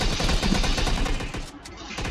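AK rifle gunfire in PUBG Mobile rattles in rapid continuous bursts, loud and close throughout, with a short gap before the firing resumes.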